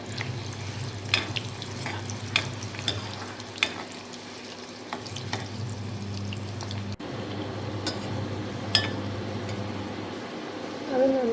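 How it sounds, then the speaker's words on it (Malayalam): Green mango pieces frying in a pan for a chutney, giving a steady close sizzle with scattered stirring scrapes and clicks throughout, with no voices. "നമ്മുടെ പച്ചമാങ്ങ ഇട്ട് കൊടുക്കാം. അതും നമ്മൾ നന്നായിട്ട് ഫ്രൈ ചെയ്തെടുക്കും."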